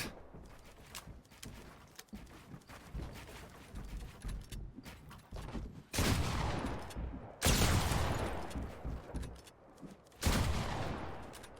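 Rapid bursts of gunfire from a Fortnite match, scattered shots building into loud volleys around the middle and near the end, with footstep-like clatter between them and no talking.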